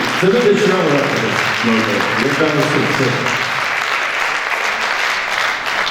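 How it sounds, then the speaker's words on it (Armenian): Loud, dense applause from a large audience, steady throughout, with a voice briefly audible over the clapping at the start. "ևս մեկ անգամ ծափահարենք մեր վարպետին"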